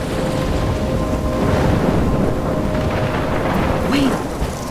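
A thunderstorm with rain in the video game Life is Strange pours steadily, a loud, dense, continuous hiss of rainfall and rumbling storm noise with no break and no talk.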